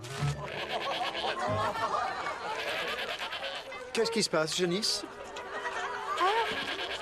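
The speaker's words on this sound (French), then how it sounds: "La chèvre de monsieur le maire mange votre pantalon" In an animated cartoon, the mayor's goat gives a couple of short, wavering bleats amid lively talking voices and background music.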